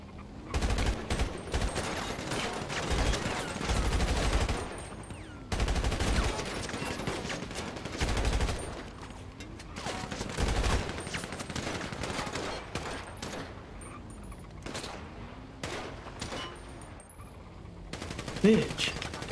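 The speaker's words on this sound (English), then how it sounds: "Shots fired, suspect down." Gunfire in the FivePD police mod of a video game, with rapid bursts and volleys of shots coming steadily over about twenty seconds, loud and sustained, ending in a sharper blast.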